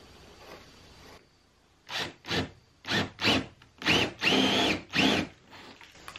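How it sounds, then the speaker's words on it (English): A drill with a Forstner bit bites into wood in a series of short bursts, each a rising whine with a scraping rub, separated by brief pauses. "if I drill out using this Forstner bit"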